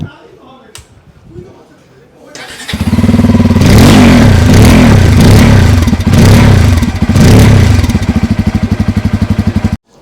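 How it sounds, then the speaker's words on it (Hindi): A Bajaj Pulsar N250 motorcycle engine starting after a quiet moment, then loud, close revving bursts from the exhaust over a pulsing idle that cuts off at the end. "अब आपको सुनाता हूं N250 का साउंड कैसा है।"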